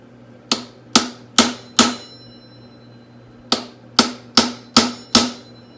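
Hammer blows ring out on metal suspension parts during a Honda 400ex ATV build, covering the A-arm, ball joint, spindle and tie rod: four sharp, close strikes, a pause, then five more in a steady rhythm, with no talking.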